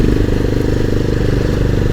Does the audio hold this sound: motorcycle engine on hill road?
yes